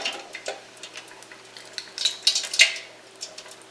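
Hand-rolled Natchitoches meat pies frying in hot oil until golden brown: a soft, steady sizzle with scattered clinks and scrapes of utensils against the pan, fairly close, with no talking.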